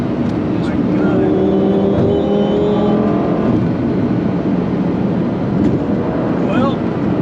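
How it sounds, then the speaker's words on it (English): Powerful car accelerating hard, heard from inside the cabin as a continuous rising engine roar with a brief tonal sweep, steady and close throughout. "Well, that is the most powerful vehicle I have ever put my ass in. Feel it just go. It just takes off."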